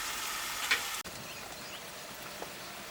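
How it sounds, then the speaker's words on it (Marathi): Tomatoes and onions fry steadily in oil over a wood-fired village stove for egg masala, a continuous soft sizzle with a small click partway through. "आता कांदा भाजत आलाय याच्यात आता टमाटर टाकतो. टमाटर बी तेला चांगलं भाजून घ्यायचं."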